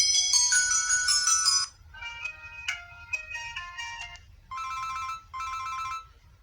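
A Calme C116 card-size mobile phone plays its ringtone at ringer volume, a bright electronic melody in several distinct phrases with short pauses between, fairly clear against a quiet background.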